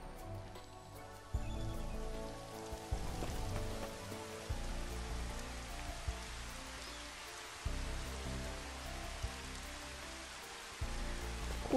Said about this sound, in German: Und wir können es auch regnen lassen.